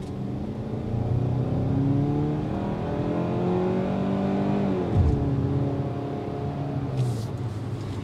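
A 2022 Hyundai Tucson compact SUV in sport mode accelerates with a steady, rising engine drone heard from inside the cabin, holding loud and continuous for about eight seconds with a brief dip near the middle.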